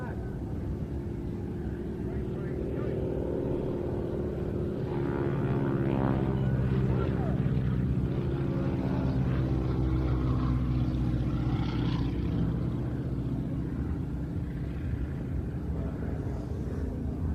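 Propeller aircraft carrying wingwalkers at an evening air show, a steady engine drone that swells and fades as the planes pass at moderate distance, with a commentator talking over it.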